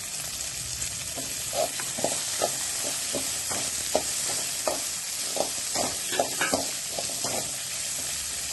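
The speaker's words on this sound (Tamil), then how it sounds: "வெங்காயம், இஞ்சி ஒரு துண்டு போட்டிருக்கேங்க. வெள்ளைப்பூடு 4 பல் போட்டிருக்கேன்." Onion, a piece of ginger and four garlic cloves fry in a pan for curry leaf chutney, with a continuous sizzle broken by repeated stirring taps and scrapes.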